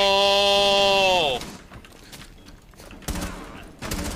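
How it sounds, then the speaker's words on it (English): After a falling electronic tone fades, a video game gun fires in three-round burst mode, giving two short, sharp bursts a little under a second apart. "I put the gun on burst fire!"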